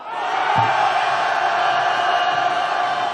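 A large street protest crowd on the way to Gwanghwamun roars a sustained collective shout of protest, loud and continuous from start to finish.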